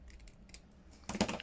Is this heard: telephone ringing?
no